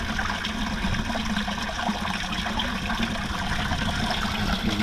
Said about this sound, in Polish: I proszę, wypływa woda.